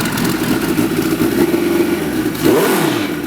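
A turbocharged, nitrous-equipped 373-horsepower Martech Suzuki street bike at a custom motorcycle show, its engine loud and close, holding a rough throbbing idle-to-rev tone, then surging in a sharp rev and falling away near the end.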